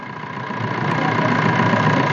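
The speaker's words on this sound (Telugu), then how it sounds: "ఈ వెహికల్ అయితే మీకు ఇంజన్ స్టార్ట్ చేసి చూపిస్తున్నాము." A 2015 Maruti Swift Dzire LDI diesel engine idling after start-up, a steady close rumble with a faint knocking texture that swells slightly in the first second and then holds even.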